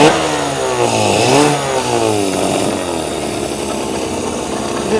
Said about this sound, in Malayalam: ഇപ്പോൾ നമ്മൾ സ്റ്റാർട്ട് ചെയ്ത് ഗ്യാസിലാണ് ഈ എൻജിൻ സ്റ്റാർട്ടായി ഓടുന്നത്